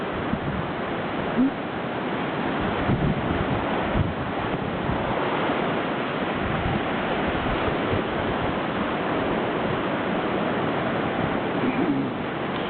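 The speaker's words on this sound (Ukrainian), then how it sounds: "море шумить" Sea waves break and wash along the Fondi seafront shore in a continuous, moderately loud roar, with wind buffeting the microphone throughout and no voices.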